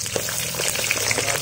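Food sizzles and crackles steadily in a frying pan, a close, even spatter of hot oil with small pops and no voices over it.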